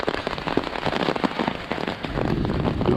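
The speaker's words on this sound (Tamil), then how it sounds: "ஐயோ என்ன மழை." Heavy rain pours down outdoors in a steady, loud, dense hiss of drops striking surfaces, continuous for the whole stretch with no voices.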